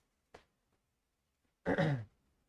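A man reading a novel aloud imitates a cough with his voice: a tiny click, then one short, gruff throat-clearing cough, close and alone in a quiet room.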